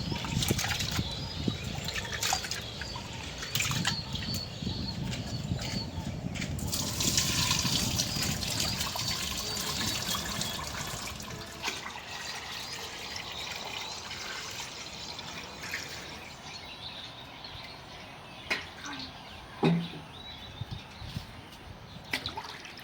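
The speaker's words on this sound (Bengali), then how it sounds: "এখন ডালটা ধুয়ে নিতেছি" Lentils being rinsed by hand in a pot of water in a home kitchen, with sloshing, trickling and dripping sounds that are close and moderately quiet, plus scattered clattering and some background voices.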